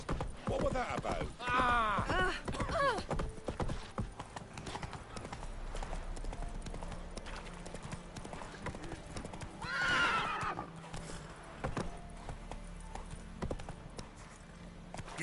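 Hooves clip-clop at a steady gallop and a horse gives two loud whinnies in The Witcher 3: Wild Hunt on PS5, with the rhythmic hoofbeats running throughout.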